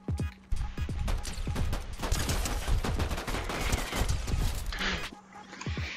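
Rapid bursts of gunfire from the video game Fortnite, a loud, dense run of sharp shots and volleys filling the whole stretch, with faint voices now and then underneath.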